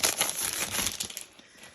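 Mirror-finish craft paper sheets being handled, a dense, close crackling crinkle for about a second that then fades to quiet, with no talk.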